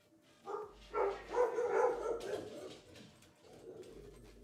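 Guard dogs bark around a house in a quick, overlapping cluster of several barks, fairly loud at first and then trailing into softer yaps, with no speech.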